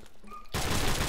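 A single loud shotgun blast from Call of Duty Modern Warfare Remastered cuts in abruptly after a quiet moment and rings on with a dense, broadband roar.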